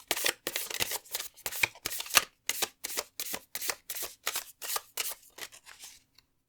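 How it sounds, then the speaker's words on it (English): Oracle cards are shuffled and drawn for a pick-a-card reading, producing a steady series of crisp riffling bursts, about fifteen quick rhythmic strokes close to the microphone, with no talking. "let's keep drawing cards to get more information"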